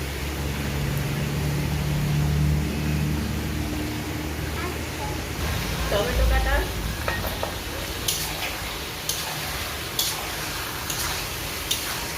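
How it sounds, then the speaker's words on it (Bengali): Chicken sizzles in a pan with onion and garlic, a soft frying hiss under scattered stirring scrapes and light clicks of a utensil against the metal. "কিছুক্ষণ পেঁয়াজ রসুনের সঙ্গে চটিয়ে নিয়েছি মাংসটা"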